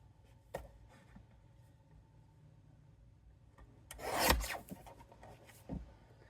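A paper card's edge is trimmed, giving a short soft rasp early, then a louder close scraping cut lasting about a second, in an otherwise quiet room.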